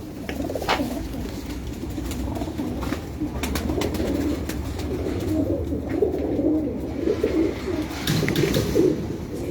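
Pigeons coo on a rooftop, a dense, steady low burbling chorus of overlapping calls carrying on for several seconds at close range, with occasional light clicks and rustles.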